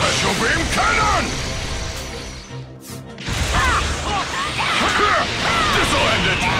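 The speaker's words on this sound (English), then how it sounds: "Special Beam Cannon!" A sustained, dense blast of energy from the Special Beam Cannon attack in Dragon Ball Z: Kakarot, with crackling, whooshing layers, briefly dropping out before roaring back even louder and continuing to the end.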